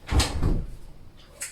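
A house door swings open to let a cat in, a short wooden clunk and rattle followed by faint movement and a soft higher scrape near the end, close and fairly quiet.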